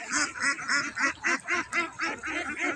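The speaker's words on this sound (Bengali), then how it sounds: "হাজার হাজার, এইগুলা সব বাচ্চা হাঁস" A dense flock of young ducklings, thousands together, quacking in a steady rhythmic chorus of overlapping calls, close and fairly loud, with no talking.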